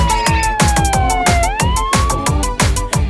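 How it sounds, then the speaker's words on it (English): Cartoon fire engine siren wails in rising and falling sweeps over a bouncy, loud children's song beat with a steady pulsing rhythm. "Fire engine! Wee-oh! Wee-oh! Wee-oh! Wee-oh!"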